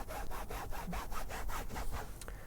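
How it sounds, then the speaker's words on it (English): Cloth scrubbed back and forth over fabric upholstery inside a Jeep TJ, a steady run of about ten quick rhythmic rubbing strokes heard up close with no talking. "So on the cloth, then we're just gonna scrub."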